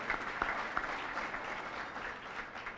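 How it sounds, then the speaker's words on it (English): Audience applause at the 2016 President's Awards live event, a steady crowd of clapping hands filling the room, fairly soft and even throughout, with no one speaking. "Let's give them a round of applause."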